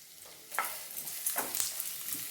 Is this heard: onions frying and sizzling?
yes